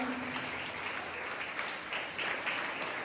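Audience applause for karate students at a victory ceremony, an even, fairly soft wash of many hands clapping that holds steady from start to finish.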